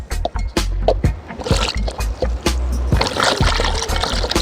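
Water splashes and trickles over a coconut as it is rinsed by hand during preparation of traditional Jamaican banana porridge, with irregular close splashing, drips and handling knocks throughout.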